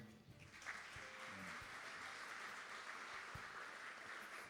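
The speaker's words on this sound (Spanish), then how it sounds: "Un aplauso para él." Lecture audience applauding after a bioethics talk, a sustained even wash of many hands clapping at a distance, fairly faint and steady throughout.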